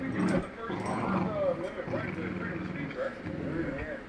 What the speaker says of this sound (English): This dog is going to be a service dog.